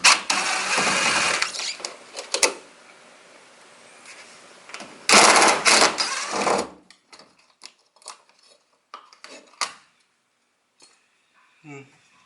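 A power tool backs screws out of a 1973 camper dash in a few loud whirring bursts, close by, separated by pauses and followed by clinks and light handling noises.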